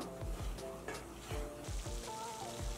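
Masala cooking on a low flame for bread usal, with a steady soft sizzle and bubbling plus several faint spoon taps and scrapes against the pan, close by with no talking.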